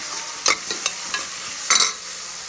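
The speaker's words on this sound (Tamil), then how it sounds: "இப்போ வெங்காயம் வதங்கினதுக்கப்புறம் இஞ்சி பூண்டு பேஸ்ட் சேர்த்து அதையும் வதக்கிடுங்க." Ginger garlic paste and onions are sautéed in a pan. A soft, steady sizzle runs under several sharp scraping stirs of a utensil against the pan, with two louder strokes.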